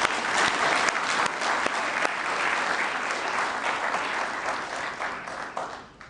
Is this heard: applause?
yes